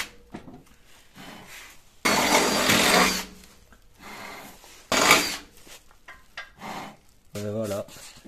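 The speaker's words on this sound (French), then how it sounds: "je vais repercer les trous des ancrages" Drill boring holes through the axle anchor mounts of a Renault 4L rear axle during repair, giving two loud broadband bursts of a couple of seconds each with quieter workshop noise between and a brief tonal whine near the end.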